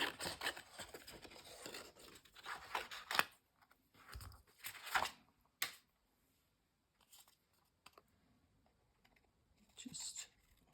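Scissors cutting out a paper dog shape, giving short crisp snips and rustling paper in irregular bursts, close and fairly quiet, separated by brief silences.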